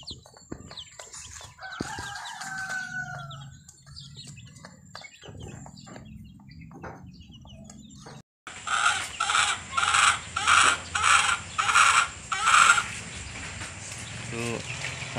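Native chickens cluck and crow in a backyard flock, first scattered calls and a crow, then a loud run of rhythmic, repeated clucking bursts close by, with some talk mixed in.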